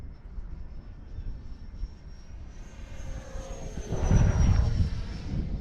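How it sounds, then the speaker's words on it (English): A Freewing F-5N 80mm RC jet on its maiden flight whooshes past during a touch and go. Its steady ducted-fan whine swells into a louder rushing pass near the end. "Let's do a touch and go here."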